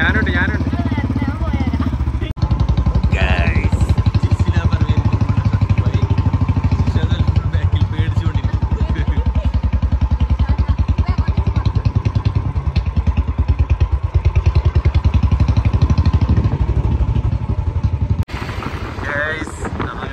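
A Royal Enfield Bullet motorcycle runs steadily, with a loud, continuous engine drone and a clattering, thumping texture that holds for most of the stretch before dropping off near the end. Faint voices may sit underneath.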